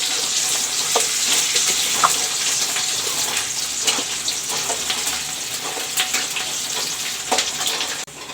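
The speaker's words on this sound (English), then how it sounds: "I will let the onions fry." Onions fry in a pan for a simple vegetable curry, a steady, close, continuous sizzle with faint crackles and occasional stirring scrapes, no voices.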